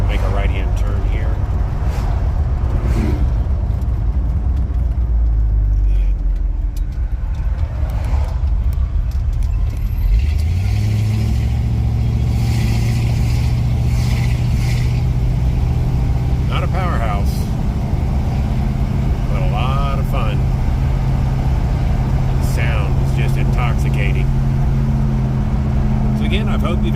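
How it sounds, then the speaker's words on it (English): A 1967 Dodge Charger with a 318 engine and automatic transmission drives along, its engine droning steadily beneath continuous close talk inside the car, with the engine note rising as it accelerates. "I hope you've enjoyed this drive video with me in this 1967 Dodge Charger 318."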